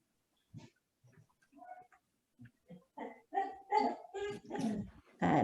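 An indoor dog barks and whines at someone passing a window, starting with scattered soft whimpers and rising into a run of louder, closer barks with no talking.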